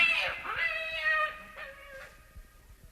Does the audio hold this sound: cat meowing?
yes